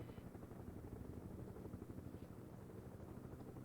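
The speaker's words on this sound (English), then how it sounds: "Just get some attack helicopters in, that'll do, won't it?" An attack helicopter in the video game Broken Arrow makes a faint, steady rotor thrum with a low rumble underneath, with no one speaking.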